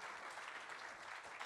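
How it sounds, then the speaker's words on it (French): An audience at a conference awards event claps steadily throughout, a dense even patter of applause with no voices standing out. "On peut applaudir nos intervenants."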